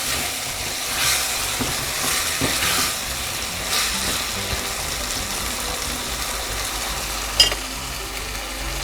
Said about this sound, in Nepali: अब यो आलुलाई चाहिँ हामीले 3-4 मिनट यो मसलामा पकाउँ। बीचमा यसो चलाउँदै पनि जाउँ आलुलाई।